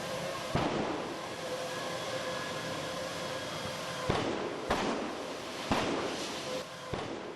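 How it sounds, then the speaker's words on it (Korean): Discarded LP gas cylinders at a Gyeongju gas-cylinder processing plant fire burst in a chain. Several loud, sharp bangs ring out at irregular intervals over a constant roaring rumble of fire and wind. "커다란 폭발음과 함께 공장에서 시커먼 연기와 불길이 치솟아 오릅니다"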